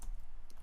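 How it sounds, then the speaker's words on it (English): Keystrokes on a computer keyboard as JavaScript keywords are typed, a quick run of soft clicks at steady close range with no voice over them. "I will start typing some JavaScript keywords"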